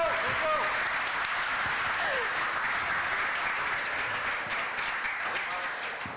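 Loud, steady applause from a crowd at a Lithuanian school's hundred-days-before-graduation celebration, sustained throughout with some voices mixed in.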